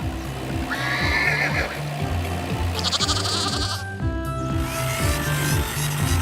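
Cartoon farm animals arriving by tractor: a horse whinnies loudly, goats and sheep bleat repeatedly, with hoof clip-clops and a rhythmic engine chug underneath, busy and close throughout.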